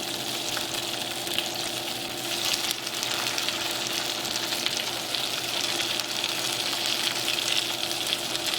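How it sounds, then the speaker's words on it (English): Bow tie pasta drops into a pot of cooking water, giving a soft, steady bubbling and hiss that runs faint and continuous without talk. "So we're gonna add our bow tie pasta"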